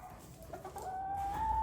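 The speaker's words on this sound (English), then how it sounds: "Look at how beautiful this cockerel is." A single cockerel nearby gives a few soft clucks followed by a rising drawn-out call, with faint low background noise.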